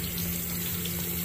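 Water pours steadily from a tap in a constant, close, full rush with no pauses, splashing brightly into a basin.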